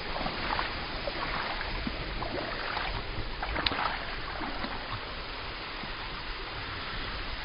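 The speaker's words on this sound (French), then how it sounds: "Heureusement donc il y a les cascades pour nous" The Cascade des Quaires waterfall: a constant, broadband rushing roar of falling water, steady and fairly close, with no break or voices across the whole stretch.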